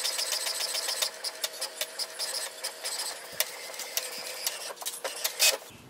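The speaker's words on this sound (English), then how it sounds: "It will print a alignment page." An HP Envy 6455e inkjet printer running off an alignment page, with continuous mechanical whirring and a series of clicks and ticks from the paper feed and print head, steady and fairly close.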